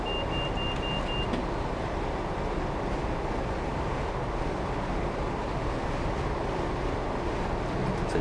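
In Train Simulator 2021, a train coasts with the power shut off on an upward gradient between Shrewsbury and Newport, giving an even, steady rumble with a wind-like hiss that runs unbroken, and no one talks.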